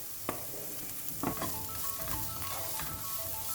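Vegetables frying in a pan with turmeric, masala powder and pepper powder, a steady sizzle with a few scraping stirs, fairly faint and without speech.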